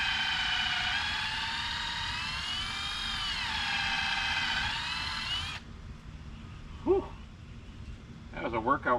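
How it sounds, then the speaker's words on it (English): An impact driver driving screws while assembling a wooden shed rack whines loudly and steadily for several seconds, its pitch wavering, then cuts off, leaving quieter room noise and brief sounds. "Well, not drill, impact driver."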